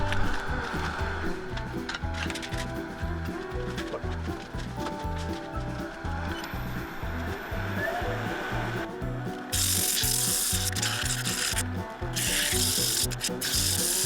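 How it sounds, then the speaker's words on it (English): Rhythmic back-and-forth rubbing of sandpaper on a redgum bowl, grits from 120 through 400, steady strokes repeating quickly, with a brief harsher hiss partway through. "what I'm going to do here is sand 120 through to 400"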